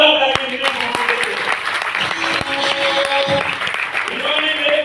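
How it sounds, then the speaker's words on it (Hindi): A crowd at a large spiritual program in Gurugram gives loud, continuous applause for a guru, and a voice carries over the clapping in the middle. "एक बार जोरदार तालियां दिनेश मोहन जी"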